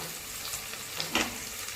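Onions sauté in oil for an ennai kathirikai kulambu (oily brinjal curry), a soft, even, quiet hiss with one brief scrape near the end.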